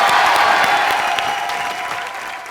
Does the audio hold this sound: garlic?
no